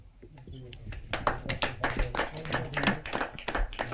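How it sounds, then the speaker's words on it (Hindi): An audience at a Hindi poetry open mic applauds with rapid, steady clapping that continues throughout, while a voice talks over it. "जरा जोरदार तालियों के साथ।"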